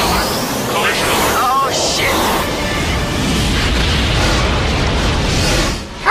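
A torpedo explosion from the Wing Commander sci-fi movie, a loud sustained roaring blast with crackling bursts that fills the whole span, close and heavy, with brief voices underneath.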